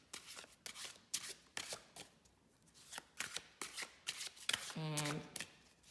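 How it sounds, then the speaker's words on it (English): Tarot cards shuffled by hand in a series of quick, crisp riffles and flicks, close and fairly quiet, with short pauses between bursts and a brief voice near the end. "I will shuffle, of course, between every sign."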